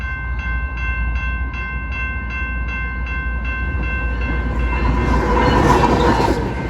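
A train led by two engines passes a busy railroad crossing: the crossing bell rings in steady repeated dings over a heavy, rolling rumble that swells louder as the train moves through.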